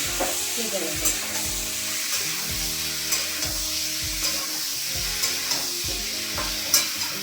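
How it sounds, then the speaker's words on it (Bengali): Frying in oil on high heat for a Bengali jackfruit and prawn dish: steady dense sizzle throughout with periodic stirring scrapes and clinks, close and fairly loud, no voices. "আর তেলটা আমি হাই করে ভেজে নিই"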